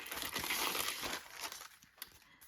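Kit paper crinkles and crumples in the hands, a dense, close rustle that swells early and thins out toward the end, with a small crisp snap near the close; no one speaks.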